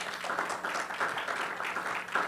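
Steady applause from a church congregation during a Spanish-language sermon on faith, a dense even patter of many hands clapping at moderate distance for a couple of seconds with no voices on top.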